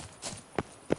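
Hooves of a horse in The Witcher 3 video game, with two or three distinct clip-clop hits in a brief, close, walking rhythm.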